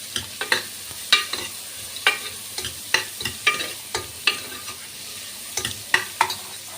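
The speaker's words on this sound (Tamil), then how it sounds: "100 கிராம் வெங்காயம், மல்லி, கருவேப்பிலை இதெல்லாம் நான் போட்டிருக்கேன். இதை நல்லா வதக்கிக்கிறேன்." Onions, coriander and curry leaves being sautéed in a pan for Tamil-style mutton paya, with repeated scraping stir strokes over a soft frying sizzle, close and steady, no talking.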